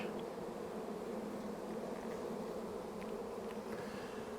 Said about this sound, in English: There's a lot of bees out at the entrance flying around